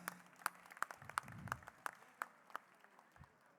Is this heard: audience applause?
yes